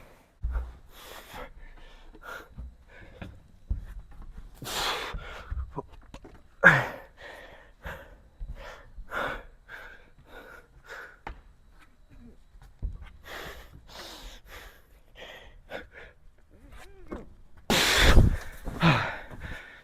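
Heavy, ragged panting and gasping from a climber right after six boulders back to back during a power-endurance session, with uneven breaths throughout and a sharp loud exhale near the end.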